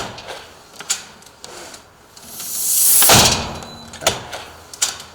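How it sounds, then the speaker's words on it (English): A security door fitted with a pump closer is opened and shut: scraping and rubbing, a swelling whoosh as the closer works, then several knocks and clunks as the door settles. "we want to open and close the door 3 or 4 times to allow the pump to adjust"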